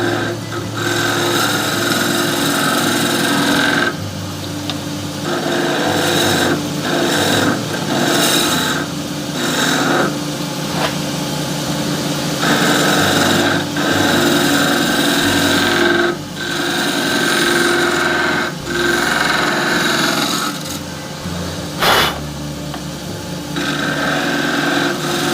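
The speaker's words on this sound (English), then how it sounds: "I'm not enjoying this spindle gouge at all with this secondary bevel on it" Wood turning on a lathe with a spindle gouge that has a secondary bevel, making a steady motor hum under repeated scraping and cutting bursts that start and stop irregularly, loud and close with no voices.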